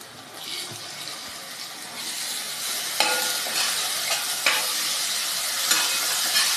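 Ginger garlic paste fries with light-browned onions in a hot pan, a steady, close sizzle with occasional louder hisses and stirring scrapes, no voices.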